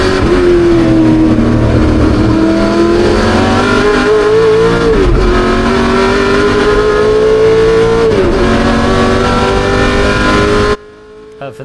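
Ford GT40 race car engine at the Le Mans Classic, heard loud and close from onboard as a steady, sustained roar. The throttle is blipped on downshifts around five and eight seconds, and the engine note cuts off abruptly near the end.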